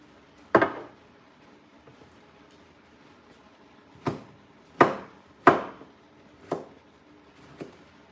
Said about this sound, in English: So I'm just chopping up some potatoes.